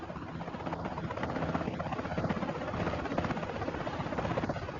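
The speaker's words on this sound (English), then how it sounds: "The small helicopter can barely lift her" Continuous noise of a small helicopter lifting off, a steady rhythmic chopping rotor drone at moderate distance with no voices.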